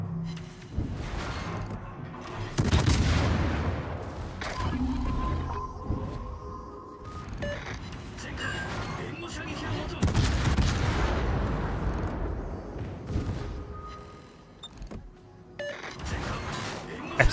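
Secondary guns on a warship fire in a naval battle in a video game: repeated heavy booms and sharp cracks in irregular volleys, loud and reverberant, with sustained rumbling between shots.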